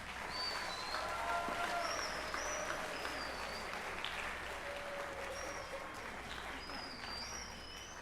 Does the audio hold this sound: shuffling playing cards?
no